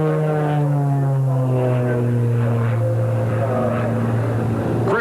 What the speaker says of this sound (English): At Oshkosh, he's competing in Linda Meyer's Cap 231.